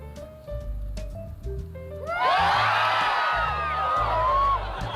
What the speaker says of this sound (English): on my backswing, I want everybody to yell when I get to the top